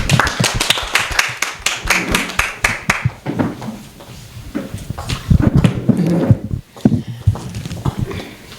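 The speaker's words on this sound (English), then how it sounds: "Let's give her a clap." An audience clapping to welcome a woman about to give a personal testimony: a lively burst of many hands that is loud at first, then thins into scattered claps and swells again, with some voices underneath.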